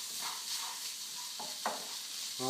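Dal being stirred in a sizzling pan, a few scraping strokes over a steady low fry, close and fairly quiet, with a louder scrape at the end.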